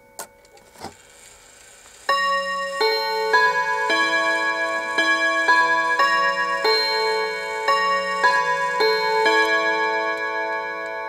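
A Westminster hat clock rings out its half-hour chime, a bright ringing melody of bell-like tones. It starts after a few soft mechanical clicks, rings loud and close, and has no talk over it.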